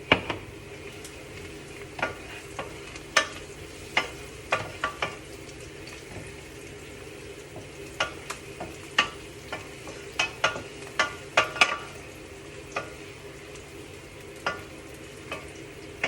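Pepper paste fries and is stirred in a pan for mapo tofu, a soft steady sizzle broken by irregular scraping clicks of the utensil against the pan, close up and with no speech.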